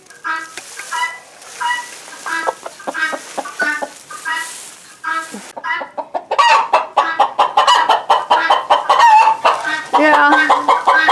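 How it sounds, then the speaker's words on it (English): Chickens cluck in a farmyard pasture with a coop nearby, a series of short, close clucks that start sparse and become a dense, loud run of rapid calls in the second half. "look at that chicken"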